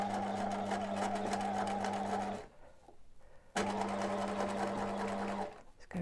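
A sewing machine stitches along a zip for a laptop sleeve, with the back of the presser foot running at the edge of the zip teeth. The steady, close motor whir stops briefly midway, then resumes and runs almost to the end.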